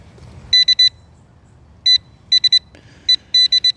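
A Nokta Accupoint pinpointer metal detector beeps in sharp, high, rapid bursts, clusters of two to four pips separated by short pauses, loud and close over faint rustling.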